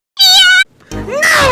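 A voice imitates a cat meowing in a meme, giving one drawn-out, wavering meow followed after a short pause by a second, rougher meow that slides in pitch, loud and close.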